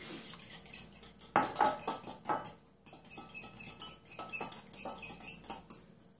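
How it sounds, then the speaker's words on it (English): Fork whisking egg and sugar in a bowl, rapid rhythmic tapping and clicking against the side of the dish, close and fairly quiet, going steadily for several seconds. "Get your fork and whisk that around."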